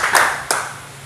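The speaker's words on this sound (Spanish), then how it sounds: "quiero que le den otro aplauso más" A few scattered hand claps from an audience at a martial arts academy belt graduation ceremony, two sharp close claps fading quickly into quiet room tone.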